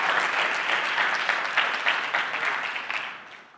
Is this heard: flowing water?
no